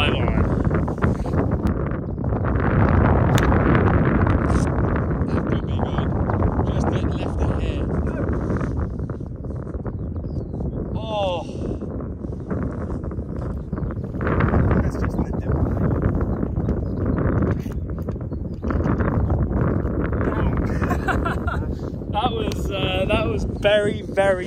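Strong gusting wind buffets the microphone on the Eden Course at St Andrews, a loud, rough roar that rises and falls in waves while golfers talk over it.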